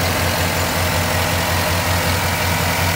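A 5.3 V8 with a 6L80E six-speed automatic idles in a 2wd K5 Blazer being prepared for an LS swap, a loud, close, steady rumble with an even low pulse and no talking.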